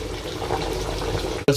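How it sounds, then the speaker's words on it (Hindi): Water pours and splashes steadily as it is drained from pan-boiled biryani rice cooked to about 80 percent, a continuous close gush that cuts off abruptly near the end. "अभी मैं इसमें से पानी निकालने वाला हूँ चावलों से।"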